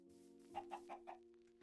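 Chickens in Minecraft cluck in a quick run of four short pulses over a faint background hum, followed by a sharp louder burst at the end; no one speaks.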